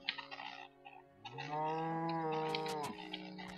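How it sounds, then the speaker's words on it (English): A cow in Minecraft lets out one drawn-out low moo at close range, with faint game clicks before and after. "That's probably a cow."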